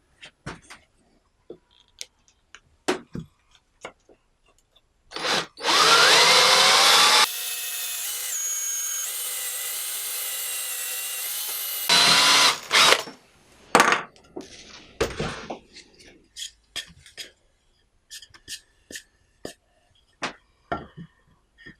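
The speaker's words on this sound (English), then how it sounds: "I'm going to drill the hole for the bolt to go through to hold the blade in" Scattered clicks and knocks, then a power drill whirs loudly for several seconds boring a bolt hole through wood for a bow saw, steadies into a strained boring tone, and stops, followed by more handling taps.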